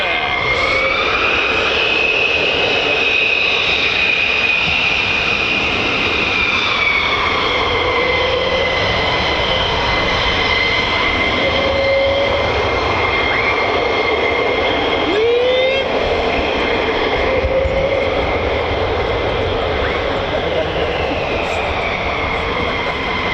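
USAF F-15 and F-35 fighter jets climb out from RAF Lakenheath, a loud, sustained jet roar with whining tones that slowly shift in pitch, filling the whole stretch without a break.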